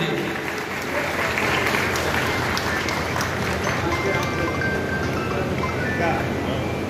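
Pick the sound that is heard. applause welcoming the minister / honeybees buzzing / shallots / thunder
applause welcoming the minister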